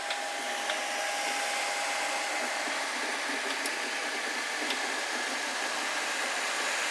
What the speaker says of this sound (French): c'est en train d'imprimer